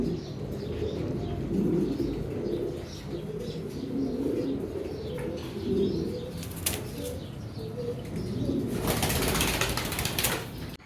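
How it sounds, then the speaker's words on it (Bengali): A pair of bright red Bombay pigeons in a breeding coop coo softly and keep shifting about; near the end comes a loud burst of wing flapping. "এখানে একজোড়া বোম্বাই কবুতর দেখতে পাচ্ছেন, লাল টকটকা, খুবই সুন্দর"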